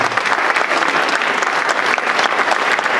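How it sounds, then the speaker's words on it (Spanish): At a breast cancer awareness conference, an audience gives loud, dense, sustained applause in an even wash of claps throughout, with no voices on top. "que lo recibamos con un fuerte aplauso"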